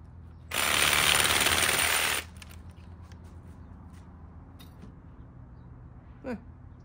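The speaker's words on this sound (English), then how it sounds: "let me take a sawzall really quick, cut that off" A reciprocating saw cuts through the trunk of a Korean quince bonsai in one loud, dense burst of about a second and a half, then stops, leaving quiet room tone.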